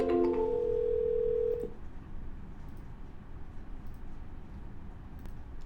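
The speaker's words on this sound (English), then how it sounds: "And we're dialing." Telephone dialing tone, a loud steady tone for about a second and a half that cuts off, followed by quiet line hiss with faint clicks.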